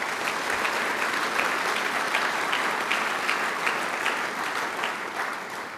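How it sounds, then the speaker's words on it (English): An audience at an evening community forum on rebuilding, recovery and land zoning breaks into sustained applause, a steady dense patter of many hands clapping at moderate volume for several seconds before easing slightly at the end. "So I think you deserve a round of applause."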